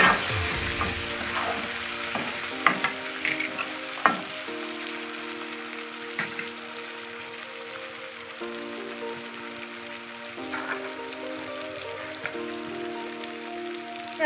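Tomatoes fry in a pan with a steady, soft sizzle and crackle that runs throughout, punctuated by occasional sharper pops and clinks of stirring.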